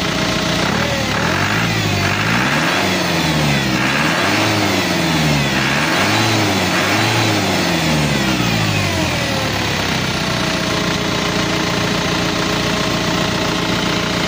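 A car engine revved repeatedly during an oil pressure check, several loud rising and falling revs near at hand, then settling back toward a steady idle.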